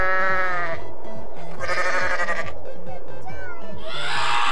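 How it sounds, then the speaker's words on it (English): Goat bleats from the Goat Simulator video game, several loud wavering cries in a row over a bouncy, repeating game music loop, with brief gaps between calls. "Sound the goat makes. Bah."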